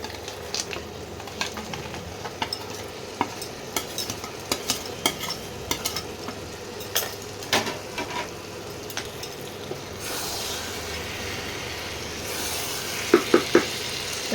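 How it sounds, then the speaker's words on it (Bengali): Lamb pieces stirred and fried with spices in oil for lamb kasa, a steady low sizzle punctuated by repeated clanks of a spoon against the pot, close by, ending in a few sharp metallic taps. "মশলার সঙ্গে মাংসটা দিয়ে ভালো করে কষাতে হবে।"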